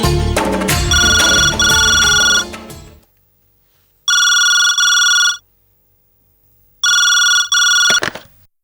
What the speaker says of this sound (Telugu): కిరాణా షాప్ కృష్ణమూర్తి గారికి ఫోన్ చేయండి.